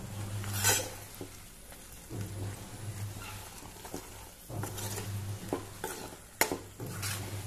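Egg curry being stirred in a pan, a Goan-style dish with masala and onion: a spoon scrapes and clinks against the pan in uneven strokes over a soft, steady simmer, close by, with no voices.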